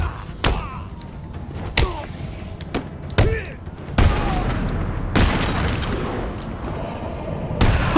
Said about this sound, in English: Punch in the face